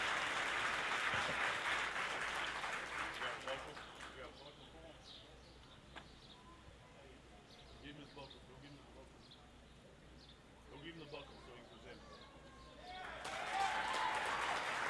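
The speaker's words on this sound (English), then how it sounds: "Give all the goat exhibitors a big round of applause" Applause from an audience at a junior livestock show, honoring the goat exhibitors; loud clapping rises at the start, fades into a quieter arena murmur, then swells again near the end.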